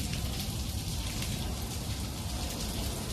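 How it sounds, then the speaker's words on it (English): Heavy rain pouring down in New York, a loud, dense, unbroken hiss of water hitting the street and surfaces, steady throughout with no voices. "this is the sound of heavy rain"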